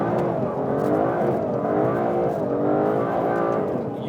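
An Aston Martin DB11 AMR's 12-cylinder engine pulls hard into a corner, a loud, close, rich multi-harmonic roar that rises and wavers steadily through the run without a break.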